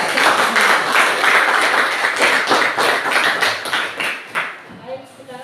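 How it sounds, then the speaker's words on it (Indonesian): A classroom audience applauding a student group at a university teaching session, loud steady clapping from many hands that fades out toward the end, followed by a brief voice. "kita kasih aplaus dulu ya untuk kelompok 1 ya"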